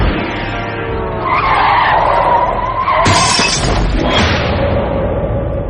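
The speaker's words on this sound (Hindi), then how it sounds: "ऑटो को कुचल के आगे निकल गया।" Truck skidding across pavement and slamming into an auto-rickshaw as an audio drama effect: a loud, sustained tire squeal builds, then a sharp crash and crunch hits partway through, with a grinding, rumbling tail afterward and no talk.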